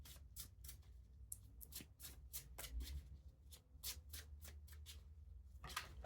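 A tarot deck is shuffled by hand in a quick, steady run of soft riffling flicks, close and fairly quiet, with no talk.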